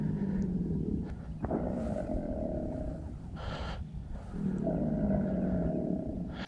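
A large, agitated alligator roars nearby in foggy swamp water, the low rumbling bellow rising and falling across the stretch amid steady outdoor background noise, with a brief hissing burst midway.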